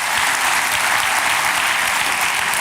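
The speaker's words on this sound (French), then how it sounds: "Applaudissons le Seigneur." Church congregation applauding during a worship service, a dense, sustained roar of many hands clapping at an even loudness throughout, with no speech over it.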